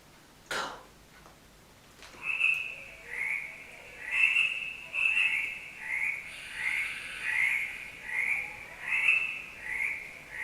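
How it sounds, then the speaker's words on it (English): Tree frogs croak in a regular, repeating rhythm of short raspy calls, roughly one per second, moderately loud against a quiet background after a couple of sharp knocks at the start. "If you listen carefully, you'll hear lots of tree frogs peacefully croaking"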